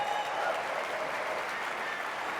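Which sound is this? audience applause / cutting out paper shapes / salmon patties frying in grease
audience applause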